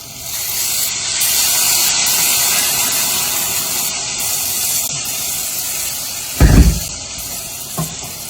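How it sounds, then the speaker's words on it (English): Salsa poured into a hot pan for chilaquiles, a loud continuous sizzling hiss close up, with a few clunks of a pan or utensil near the end. "salsa's going in."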